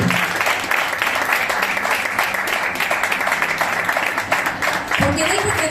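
Church congregation applauding during a Christian sermon, a dense, sustained wash of clapping from a large crowd that stays loud and steady throughout, with faint voices mixed in.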